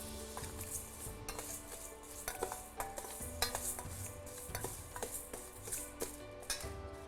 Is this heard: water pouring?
no